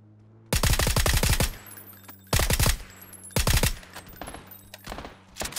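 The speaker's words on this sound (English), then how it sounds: "The fuck is shooting at us?" Automatic gunfire rattles in a video game, three loud close bursts of rapid shots with a quieter fourth at the end, separated by short pauses over a low steady engine hum.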